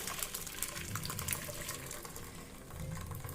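Boiled, lemon-curdled milk for homemade paneer pours through a strainer into a bowl, making a soft, steady splashing trickle close by.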